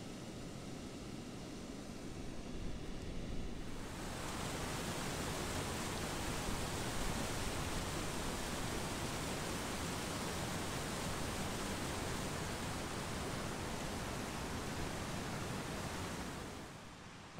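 Cataract Falls, a creekside waterfall in Cataract, Indiana, gives a loud, steady, close rushing roar that swells in after a few quieter seconds and holds constant with no voices.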